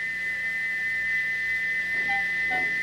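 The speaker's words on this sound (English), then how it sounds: "he wouldn't stop whistling until two fitters climbed up and knocked his whistle valve in place" Steam engine Gordon's stuck whistle blows a steady, shrill, continuous tone with no break, loud and alone throughout.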